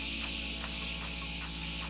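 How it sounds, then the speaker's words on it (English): Makeup setting spray is misted on in several quick close hissing bursts in a steady rhythm. "just go and bathe in some setting spray really quick"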